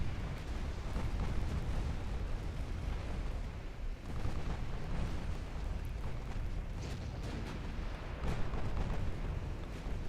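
Naval guns from battleships firing at enemy ships in Ultimate Admiral Dreadnoughts, a steady dense rumble of booming shots and distant blasts rolling on without pause, loud and low, with no talk.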